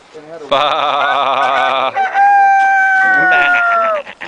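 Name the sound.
voice imitating rooster crowing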